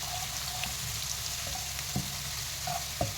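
Finely chopped onion going into meat frying in plenty of oil for Hyderabadi tala hua gosht, giving a steady sizzle with a few light clinks of a spoon against the pot.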